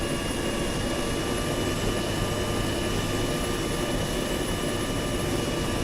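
Constant droning rotor and engine noise of a helicopter in the video game Arma 3, loud and unbroken, with a steady whine layered over the low thrum.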